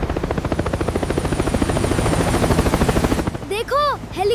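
A helicopter's rotor thumps rapidly and steadily, loud and close, with a brief burst of other sounds near the end.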